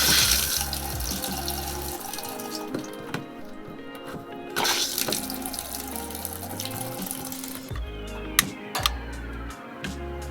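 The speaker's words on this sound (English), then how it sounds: "make sure the water's out of the pipes for like the sink and the bathroom and all that kind of good stuff." A faucet runs in a camping trailer, flushing water through the pipes for the sink and bathroom. The flow is steady and close, with clunks and rattles along the way and no talking.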